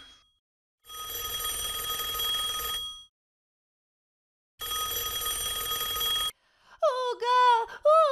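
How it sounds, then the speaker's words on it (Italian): A cartoon telephone rings in two long sustained bursts separated by a pause, loud and clear, followed by a voice speaking at the end. "Il telefono squilla, Ugo."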